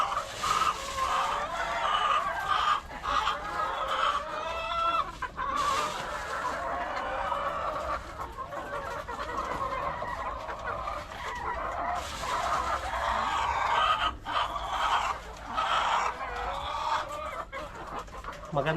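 Many RTL chickens clucking and chattering together in a coop, close and continuous, with a rooster crow rising out of the flock partway through.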